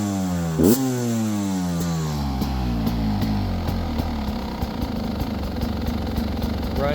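A Beta 300RR Race Edition motorcycle engine starts with a short rev, then settles into a steady, close, loud idle with a regular ticking two-stroke rhythm.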